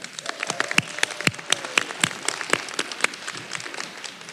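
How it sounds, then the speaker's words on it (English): A crowd at a college adult education graduation claps steadily, with sharp individual claps standing out over a continuous patter of applause that tapers slightly toward the end. "Can we give her a round of applause as well?"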